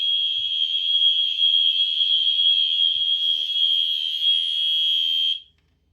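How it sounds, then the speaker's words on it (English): A fire alarm mini horn blares during an alarm test, one steady piercing electronic tone held for about five seconds before cutting off abruptly into silence. "that is about going to do it for this fire alarm test"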